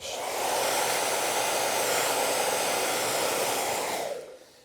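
A hair dryer blows hair dry after hairspray is worked in, a loud, steady close whoosh that runs for about four seconds, then cuts off and fades out.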